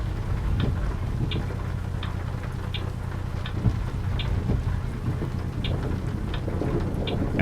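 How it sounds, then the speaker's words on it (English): Steady rain hisses in the truck-driving game American Truck Simulator during a thunderstorm. Faint regular ticks sound over it, and a low rolling rumble of thunder runs underneath. "Took a few seconds for the thunder to hit or roll through after the lightning strike."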